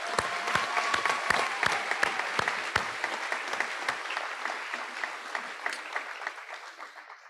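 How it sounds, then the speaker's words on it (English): A graduation audience applauds the students' parents, with sharp nearby claps standing out over broad steady applause from a large crowd that gradually fades toward the end. "Students, would you please join me in giving your parents a round of applause?"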